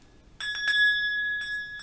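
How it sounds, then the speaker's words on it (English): A small hand bell rings clearly nearby during a Sunday worship service: a few quick strikes, then a bright, sustained ringing tone that slowly fades. "a bell."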